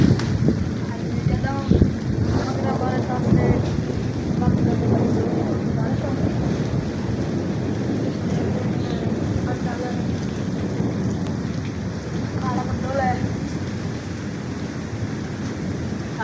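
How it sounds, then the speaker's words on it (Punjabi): Heavy rain pours down under gusting wind that buffets the microphone, with a few faint voices in the background. "ਬਾਰਿਸ਼ ਦੇ ਵਿੱਚ ਵੀ ਬੜੀ ਤੇਜ਼ ਹਵਾ ਨਾਲ ਬਾਰਿਸ਼ ਹੁੰਦੀ ਪਈ"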